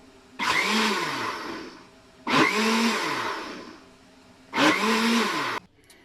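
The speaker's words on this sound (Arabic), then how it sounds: "وهنا غنحركو هاد الخليط واحد الدقيقه." A sauce of table oil with other ingredients is mixed in a blender, running in three loud bursts of about two seconds each, with the motor pitch dipping and rising in each burst and short pauses between.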